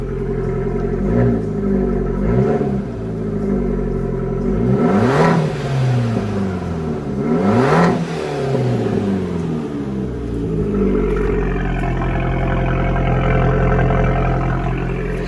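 A small Fiat 500 Abarth engine burbles at idle, then revs up sharply twice, each rise climbing and falling back, with a steady low rumble throughout.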